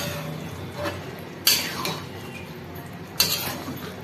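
A spoon stirs a ghee, rice and cauliflower mixture in a pan, with two sharp clinks of metal on the pan and softer scraping between them, close and fairly quiet.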